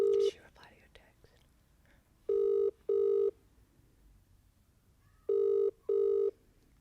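A phone call ringing back through the earpiece, two pairs of loud, evenly spaced double rings separated by a long pause, with brief faint whispering before the first pair.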